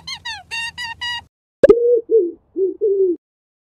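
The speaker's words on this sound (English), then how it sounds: "Perfect. Pigeon." A pigeon coos in a low, soft, hollow series of four short notes after a sharp click, following a brief higher-pitched animal call.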